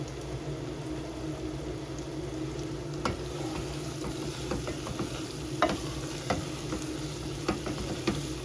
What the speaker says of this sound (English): just gently scraping it up.